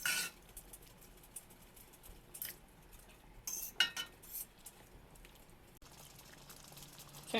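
A spoon stirring brown stew fish sauce in a pot, soft scraping and metallic clinks against the pot over a quiet bubbling background, close and intermittent.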